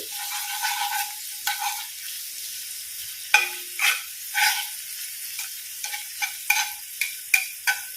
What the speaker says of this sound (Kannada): ಈರುಳ್ಳಿ ಬೆಂದ್ರೆ ಸಾಕು ಕೆಂಪಾಗುವಷ್ಟು ಫ್ರೈ ಆಗಬಾರ್ದು